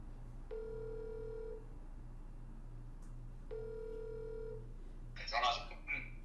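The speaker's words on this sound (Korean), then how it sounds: "전화 한번 해볼까요?" A telephone ringback tone comes through a speakerphone, two long rings separated by a pause, with a faint background hum. A brief burst of voice follows at the end.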